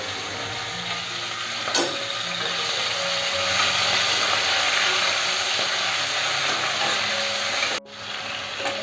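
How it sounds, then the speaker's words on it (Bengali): Shrimp lightly frying in a little oil in a pan, a steady, close hiss of sizzling that holds evenly throughout, broken once by a sharp click near the end. "আমি এই চিংড়ি মাছগুলো এই তেলে একদম হালকা করে ভেজে নেব।"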